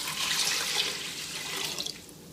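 Water is poured from a vessel into a pot of rinsed lentils, a close, steady splashing gush that thins into a few drips at the end.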